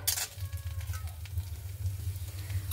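Shrimp fry lightly in a little oil for a spicy Bengali bharta, giving a steady close sizzle and crackle over a low stove hum, with a brief louder burst at the start.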